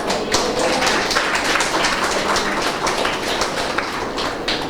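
A church congregation claps hands in rhythm during a Tamil Christian worship service, a steady dense patter of many hands that fills the whole stretch at a loud, even level.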